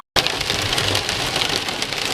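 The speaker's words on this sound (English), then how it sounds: "This is how hard it's raining." Heavy rain pouring down, a dense loud hiss with pattering texture that starts abruptly and continues steadily with no talk.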